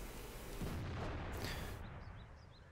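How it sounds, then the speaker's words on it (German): A heavy tank gun fires once from an Objekt 268 in World of Tanks, a loud booming blast with deep rumble that swells and lingers over steady broadband battle ambience. "da haben wir auch schon gerade Ja. den ersten Schuss vom Objekt gesehen, vom Objekt 268"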